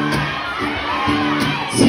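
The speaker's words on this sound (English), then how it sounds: "So many people are shouting, I can't hear a word you're saying." A large concert crowd shouts and cheers in a continuous roar, with higher-pitched whoops and screams rising now and then.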